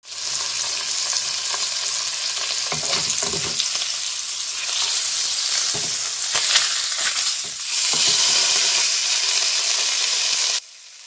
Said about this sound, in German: Das Fleisch wird jetzt ungefähr für 2 Minuten auf jeder Seite recht scharf angebraten